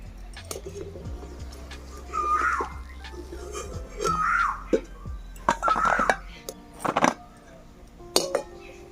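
Fried homemade crisp flour biscuits being lifted from a pan: several scraping clinks of a utensil against the metal pan, with a low steady background hum, brief clatters spaced across the moment.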